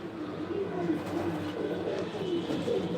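Racing pigeons in a loft coo steadily at close range, a low continuous murmur of overlapping calls with no pauses and no voices.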